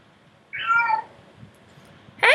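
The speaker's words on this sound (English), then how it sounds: "who is wandering around and meowing for no particular reason." A cat wandering around indoors gives one clear, drawn-out meow close by, then a second meow begins at the very end, with near silence between.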